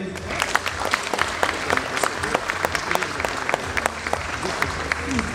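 Steady applause from a crowd, dense clapping throughout with a few sharper claps standing out, and faint voices mixed in.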